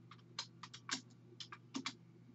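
Quiet typing on a computer keyboard during a Windows 10 PC search, a few short bursts of clicky keystrokes in irregular clusters over a low steady background hum.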